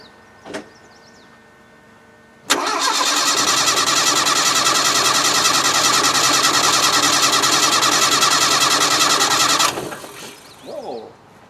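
A Land Rover 90 engine turns over for about seven seconds, a loud, continuous, close whirring crank that starts abruptly and cuts off, with faint clicks before and after.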